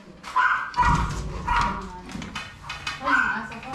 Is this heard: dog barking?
yes